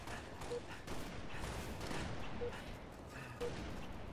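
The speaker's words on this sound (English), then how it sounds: "There's like 5 grenades at once!" Several grenades going off almost together in Halo Reach multiplayer, a cluster of muffled booms and crackling blasts layered over game noise, fairly faint overall with a few sharper peaks.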